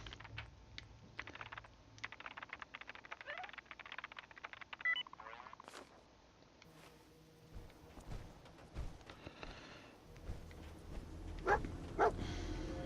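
A dog in the game Fallout 4 barks and whimpers in short bursts, mixed with clicking keyboard and mouse sounds throughout.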